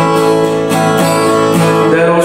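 A guitar chord rings out loudly and close, strummed with all strings sounding together and restruck a few times over a couple of seconds, with no voice over it.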